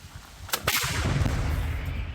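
One loud blast goes off, then a sustained low rumble lingers after it.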